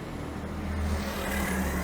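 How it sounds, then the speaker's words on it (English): A truck rolls past on Front Street in downtown Memphis, a steady low engine rumble and road noise that builds slightly as it goes by, heard close without any talking. "Let's let this truck come by."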